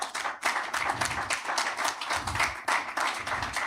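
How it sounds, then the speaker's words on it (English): Applause from the audience at a technology and AI conference in Africa, a moderate crowd clapping in uneven bursts with brief dips and swells, fairly quiet and without talk. "Please, a round of applause, please."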